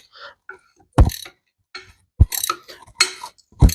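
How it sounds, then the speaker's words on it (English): Ratchet wrench worked on an axle seal job, giving a few sharp, close metallic bursts of clicking separated by short pauses, loud and distinct against a quiet background. "Ratchet wrench."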